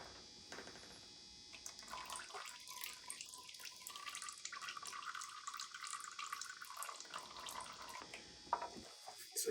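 Crankcase oil draining from a 1975 Yamaha DT125B motorcycle runs in a steady trickling stream that holds for several seconds, then tapers off into a few faint drips.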